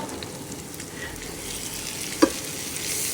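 Curry broth sizzles steadily in a pan on a home kitchen stove as it is stirred, a soft continuous frying hiss with one brief clink of a utensil partway through.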